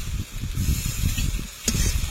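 Ginger and garlic paste with fried onions and tomato puree sizzling in a pan, a steady close hiss with brief louder spatters, heard alone without talk.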